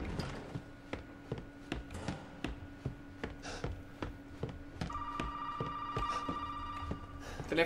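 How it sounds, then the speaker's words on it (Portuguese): A telephone rings in the Resident Evil 7 video game, with a faint repeating ring tone under a steady series of sharp, evenly spaced clicks or footsteps, and a stronger sustained tone entering near the end. "Telefone."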